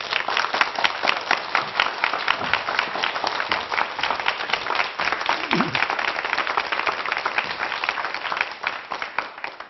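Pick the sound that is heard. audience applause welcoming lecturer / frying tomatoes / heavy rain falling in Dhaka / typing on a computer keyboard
audience applause welcoming lecturer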